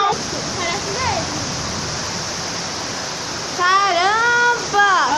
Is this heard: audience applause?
no